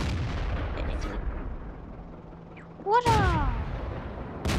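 A mortar tank fires in the video game World of Tanks, a sudden heavy boom followed by a rolling roar, while a player speaks briefly over the game's ambient rumble.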